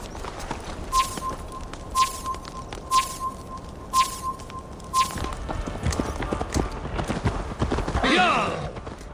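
Horse hooves clop in a steady galloping rhythm in Assassin's Creed Valhalla, with regular thudding beats and game sounds, followed by a rougher rush of movement near the end.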